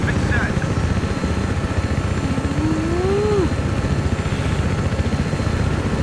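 A helicopter flies in Battlefield 3 with a loud, steady rotor thump and engine drone throughout, while someone talks over it and a whistling tone glides up and down midway.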